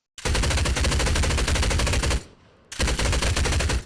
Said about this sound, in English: The knight is equipped with an SMG and a shotgun.